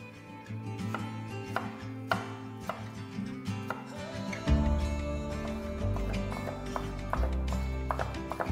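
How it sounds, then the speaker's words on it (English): A knife taps quickly and steadily on a cutting board as garlic is chopped finely, the light rhythmic knocks close and fairly soft over a low background hum. "Three pieces of garlic, finely chopped."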